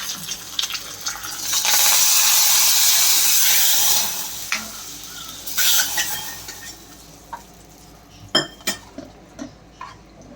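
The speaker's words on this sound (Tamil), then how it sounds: "சாம்பார் தாளிச்சாச்சு" Sambar tempering with curry leaves and asafoetida sizzles loudly in a pan while a spoon stirs and scrapes, a strong sustained hiss for a few seconds easing into scattered metallic clinks and taps.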